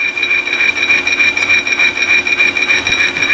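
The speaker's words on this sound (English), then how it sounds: "Drill press turns nice and slow." A drill press turning slowly with a countersink chamfer tool breaking sharp edges on metal parts for a roller kit, giving a steady close whine and scraping hum with rhythmic grinding pulses.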